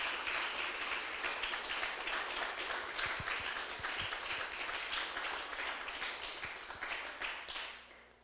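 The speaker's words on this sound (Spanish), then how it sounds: "Denle un fuerte aplauso al Señor." A church congregation claps together in a steady, fairly faint, continuous round of applause that tapers off at the end.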